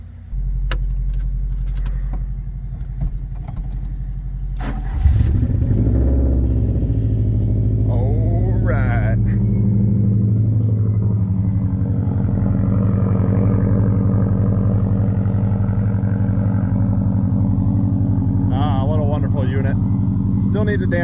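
A Subaru drift car's engine fires up about five seconds in, then settles into a steady, loud, close rumble that holds unbroken to the end.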